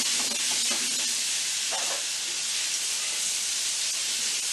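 Pork frying in a pan, a dense continuous hiss and sizzle that stays loud and steady throughout with faint clinks underneath and no voices.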